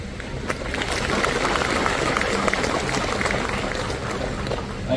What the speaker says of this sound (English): You need to give a louder round of applause for yourself.